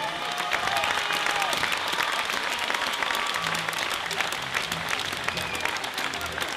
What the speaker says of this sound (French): Donc, on peut encore les applaudir.